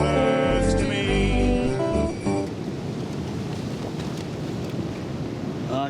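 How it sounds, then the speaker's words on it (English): Strong wind buffets a poncho shelter at a wild camp with an ammo box stove, starting with a loud tonal rumble and flapping, then settling into a steady, heavy roaring rush that fills the rest of the clip with no talking. "She's a bit windy, like."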